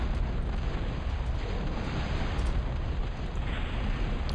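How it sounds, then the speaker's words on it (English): Artillery barrages rumble without pause in a Total Annihilation: Twilight match, a dense, loud wash of overlapping booms and blasts with no clear gaps between shots. "So that's the artillery."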